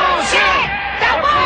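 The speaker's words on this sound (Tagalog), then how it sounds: "ay lintik na ang hiyawan at palakpakan ng kanyang mga taga-suporta" A crowd of supporters roars, yells and cheers for a Filipino boxer at a fight held in the opponent's home arena, a dense, loud wall of shouting voices that swells and dips across the moment.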